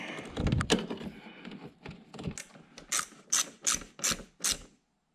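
A ratchet tightens the bolts of a Stage 3 rear spoiler on a C7 Corvette, with scattered handling clicks early on and then a clear run of about seven evenly spaced ratcheting bursts, close and moderately loud, with no talking.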